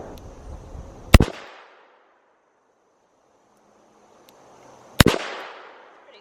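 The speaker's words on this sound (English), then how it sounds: "now I'm gonna shoot the Model 19 carry comp. I'm shooting round nose photo metal jacket 38 out of this" Model 19 revolver firing round-nose full metal jacket .38 rounds, two sharp loud reports about four seconds apart, each with a fading echo tail, close and otherwise quiet between shots.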